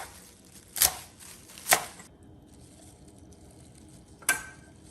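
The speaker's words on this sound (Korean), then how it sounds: "치커리도 썰어서 담고요." Knife chopping chicory on a cutting board: three sharp, separate chops spaced about a second apart, then a pause before the last one, close and fairly quiet, with no voice.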